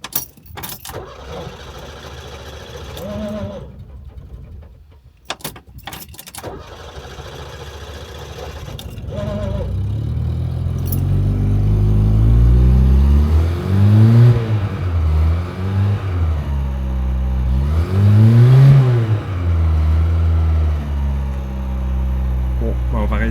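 An old car on a gentle uphill slope strains to start, its engine cranking and revving in rising, uneven surges that grow louder toward the end, with some clicks and rattles near the beginning.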